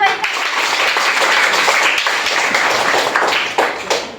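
A crowd clapping for a correct answer at a quiz contest in a primary school applauds steadily for several seconds, a dense patter of hand claps that thins out near the end.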